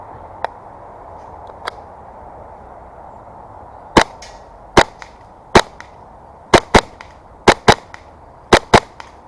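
An airsoft gun fired in a mix of single shots and short bursts, about a dozen sharp cracks from the shooter's position over a steady low background hiss.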